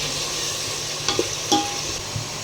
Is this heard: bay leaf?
yes